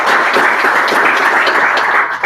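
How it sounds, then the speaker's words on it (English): Audience at a user-group meeting applauds a presenter, steady loud clapping throughout the room that tapers slightly at the end. "let's give a big round of applause for Tim Radney"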